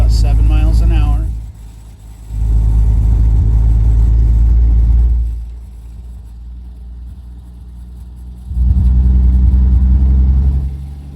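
A 1953 Hudson Super Wasp on its first drive since 1979, low engine rumble swelling and fading with throttle in a few long surges, heard from inside the car at low speed.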